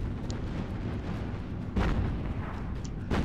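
Battleship main guns fire a volley in the Battlestations Pacific naval battle off Guadalcanal, with a low rumbling bed broken by two heavy booms a little over a second apart.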